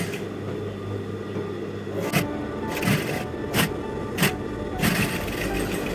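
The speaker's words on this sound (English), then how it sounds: "you make sure you sew down on your exact seam allowance" A sewing machine stitches a fabric seam, a steady mechanical hum underneath with several short whirring bursts of stitching, close by and fairly loud.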